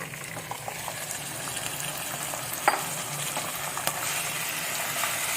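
Minced meat frying with browned onions for keema matar, a steady close sizzle with occasional scraping stir clicks and a sharp tap near the middle, no talking.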